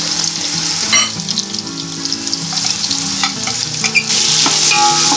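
Ginger garlic paste sizzles with onions in hot oil for veg biryani, a loud, steady frying hiss broken by scraping stirs of the spoon against the pan.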